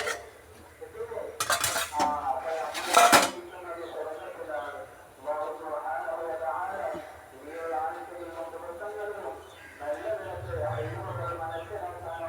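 Clanks of a metal lid set onto a pot of fish curry on a home kitchen stove, two sharp bursts early on, followed by someone talking with light pan noises underneath.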